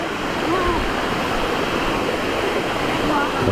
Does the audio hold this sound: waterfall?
yes